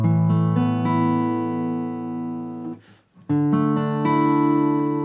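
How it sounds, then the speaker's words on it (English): A guitar chord is arpeggiated slowly as a pick moves string by string, each note entering in turn and sustaining, then a short near-silent break before another slow pass across the strings; close and clean. "You just gradually bring your pick through all the strings and make sure that each one is as clear as the last."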